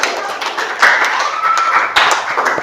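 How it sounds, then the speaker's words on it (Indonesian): Close, brisk clapping from students in a classroom applauding a kinesthetic learning group, with sharp individual claps and a few louder bursts. "Kalau gitu kita berikan tepuk tangan terlebih dahulu untuk kelompok kinestetik."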